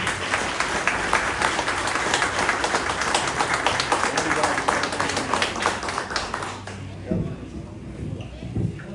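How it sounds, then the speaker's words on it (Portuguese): A crowd applauds Renato Urbano Saib at a Czech citizenship certificate ceremony, the dense clapping continuous and fairly loud before it thins out and stops near the end, leaving a few faint sounds. "agora eu vou pedir uma salva de palmas para o Renato Urbano Saib"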